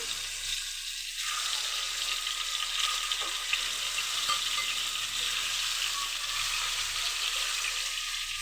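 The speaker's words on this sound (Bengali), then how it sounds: "এখন আমি তেল দিয়ে দিলাম, মাছগুলো দিয়ে দিলাম।" Snakehead fish frying in hot oil gives a steady, close sizzle that holds evenly throughout, with a brief softer moment near the start and no talk.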